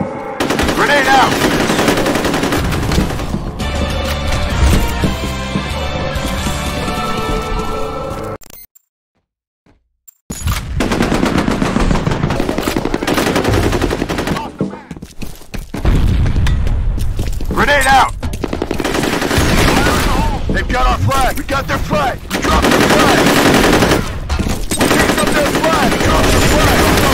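Bursts of machine-gun fire and gunshots from the F.E.A.R. combat game ring out loud and dense, broken by a short near-silent gap, with game voices calling out over the shooting.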